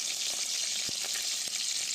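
Tempering spices for a potato fry crackle and sizzle in hot oil with green chillies, a steady bright frying hiss broken by a few soft pops, close and with no talk.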